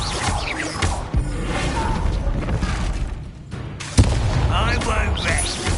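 Confringo blasting spell explodes in Hogwarts Legacy amid a dense, rumbling game soundscape, with one sharp loud burst standing out near the end.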